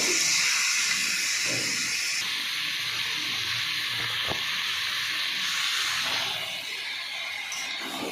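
Meat dropped into hot spice masala sizzles with a steady, hissing, steam-like sound up close. A single sharp click cuts in midway, and the sizzle softens a little toward the end.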